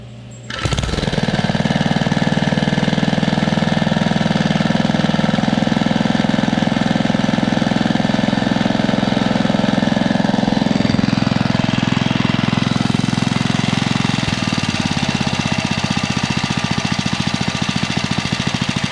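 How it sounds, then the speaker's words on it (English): A sweet-running small motor starts up and idles with a loud, steady buzzing drone, close and continuous, shifting slightly in pitch partway through. "It's a sweet running little motor."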